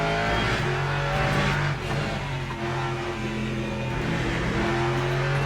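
A Lexus race car engine roars steadily in the racing game Le Mans Ultimate, a loud, continuous high-revving drone with shifting pitch and no talking.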